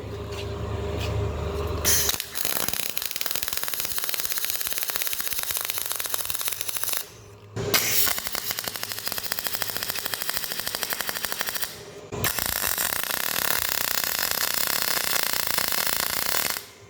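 Cheap small wire-feed welder run without shielding gas, crackling and sputtering loudly in rapid machine-gun bursts. Three long runs of close, harsh crackle are separated by brief pauses.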